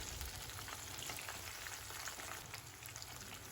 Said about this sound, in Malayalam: രണ്ട് സൈഡും നല്ല ക്രിസ്പായി കിട്ടണമെങ്കിൽ ഹൈ ഫ്ലെയിമിൽ വെച്ച് തന്നെ ഫ്രൈ ചെയ്യണം